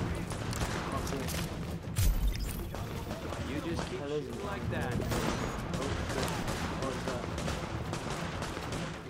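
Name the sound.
gunfire in the video game The Division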